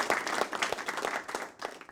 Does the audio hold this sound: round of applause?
yes